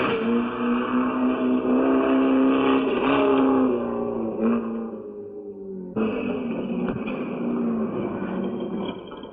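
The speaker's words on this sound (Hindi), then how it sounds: "एक लाल गाड़ी इधर आ रही है" A red car drives up and approaches, its engine a steady harmonic drone that holds loud for several seconds, drops away briefly, then returns at similar strength.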